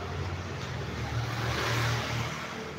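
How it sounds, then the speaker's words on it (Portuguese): Motor vehicles, likely motorcycles, pass by outside with a steady, loud engine roar and a rising revving swell in the middle, continuous throughout with no voices. "Aqui é muito barulho, irmão, cadê as motos e tal?"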